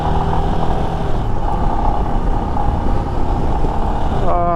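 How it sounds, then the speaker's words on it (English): A Royal Enfield Himalayan motorcycle cruises along an open road, its engine giving a steady, loud drone mixed with road and wind rumble, with a brief rise in pitch near the end. "back on the open road on the bike."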